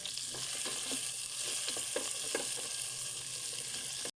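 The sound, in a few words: sautéing beef, vegetables and potatoes in a pan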